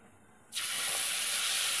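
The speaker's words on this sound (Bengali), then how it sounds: "তেলের ওপরে এই হলুদ, নুন আর লঙ্কার গুঁড়ো গোলাটা দিয়ে দিলাম।" Turmeric, salt and chilli paste hits hot oil with a sudden loud hiss. The hiss settles into a steady, bright sizzle that carries on alone.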